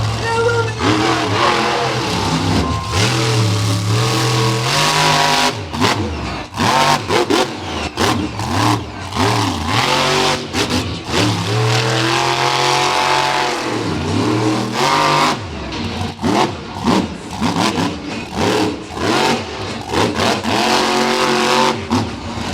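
A monster truck engine revs hard and roars through repeated throttle surges as it spins donuts, loud and close with rising and falling pitch and wheel noise in an arena, a voice faintly under it.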